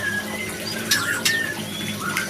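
White-rumped shama (murai batu) calling: thin whistled notes and sharp upward chirps, clear and fairly near over a steady low background hum.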